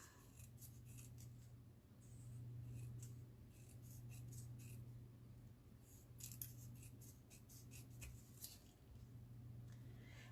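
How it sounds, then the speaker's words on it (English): Scissors snip and trim paper for a small pop-up book, a quiet run of crisp cuts scattered over a low steady background hum. "I'm going to trim that down a bit."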